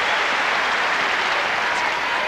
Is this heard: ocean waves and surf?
no